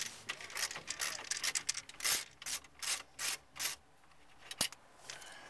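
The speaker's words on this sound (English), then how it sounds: "We have two bolts on the left side of the stereo. And we're going to remove both these bolts." Two 8mm bolts being unfastened from the left side of a Ford Fusion car stereo mount, heard as close scraping, ratcheting rubs and metallic clicks in short irregular bursts, with a sharp tick near the end.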